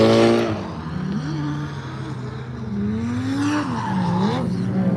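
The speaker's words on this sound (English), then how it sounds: "So these guys just warming their tyres up before their qualifying run." Drift cars at Ebisu Circuit warm their tyres, engines revving and wailing with shifting pitch over a continuous rough tyre squeal, loud and close, with a faint voice underneath.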